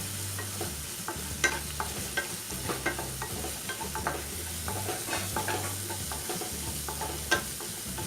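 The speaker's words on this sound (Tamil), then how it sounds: "அது வரைக்கும் வதக்கிக்கலாம்" Chopped tomatoes sautéing in a pan for a banana flower kootu kulambu, a steady close sizzle broken by repeated spatula scrapes and clacks against the pan, with no talking.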